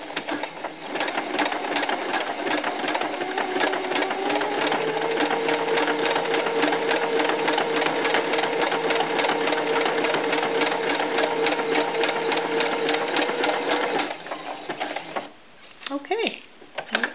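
A sewing machine runs steadily for about fourteen seconds, stitching ribbing onto the neckline of a small knit tank top for a doll, then stops and leaves a few faint handling noises.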